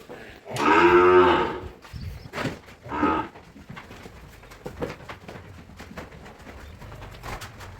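A cow lets out a loud, close moo, followed by a couple of shorter lowing calls, then quieter farmyard rustling with faint bird cooing.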